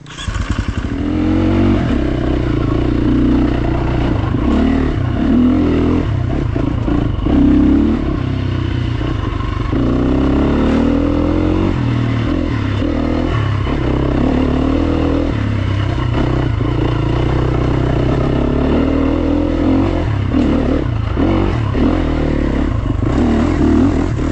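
Motorcycle ridden at night with high beam and helmet lights on, its engine droning loud and steady throughout, with shifting revs, wind rush and rattling clatter close by.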